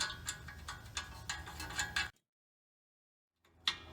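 A ratchet tightening a new castle nut onto an outer tie rod clicks in quick repeated strokes for about two seconds, close and crisp, then goes quiet before one more brief burst of clicks.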